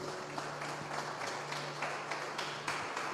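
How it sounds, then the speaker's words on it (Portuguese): A church congregation gives the Lord a strong round of applause, dense steady clapping filling the room for a few seconds without a break. "Eu quero convidar você para dar uma forte salva de palmas ao Senhor"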